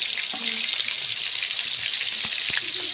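Onion paste and spices fry in hot oil for a fish curry with bottle gourd, a loud, close crackling sizzle with occasional clinks and scrapes.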